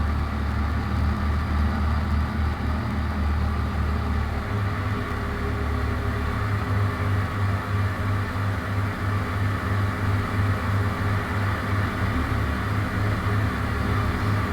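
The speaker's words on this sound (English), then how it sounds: "Alright, we'll take this tractor down there since it goes 32 miles an hour." Tractor engine in a farming video game runs steadily, a loud low rumbling drone with a faint rhythmic throb that holds for the whole stretch, no talk over it.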